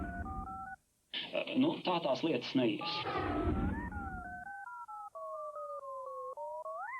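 A telephone plays a rapid run of dialing tones, then a long sequence of stepped two-pitch beeps, heard loud and close around a burst of talk.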